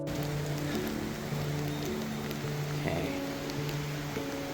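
Steady rain falls across a street in Shuzenji, Japan, a dense continuous patter on surfaces with a low background hum and no talking.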